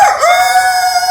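A beatboxer imitates a rooster's crow with the voice: one sustained, bright, nasal cock-a-doodle-doo call with a rising start, loud and close, alone without talk.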